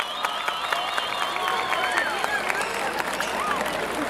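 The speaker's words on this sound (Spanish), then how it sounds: "¿quiere escuchar el aplauso?" Crowd applause and cheering at a bull-riding tournament, a sustained noisy wash of clapping with whistles and shouts, and an announcer's voice heard over it.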